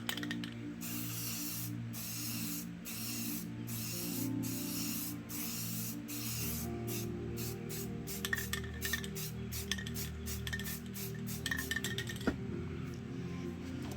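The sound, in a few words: spray paint can spraying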